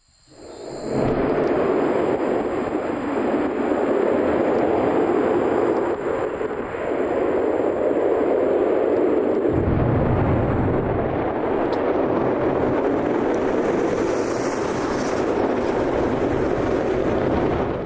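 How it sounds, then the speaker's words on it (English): Sustained, loud roar of a SpaceX Starship six-engine static fire, a broad rumbling blast that holds steady for most of the stretch, deepening in its low end partway through, with no voices. "Oh, well, 6-engine static fire."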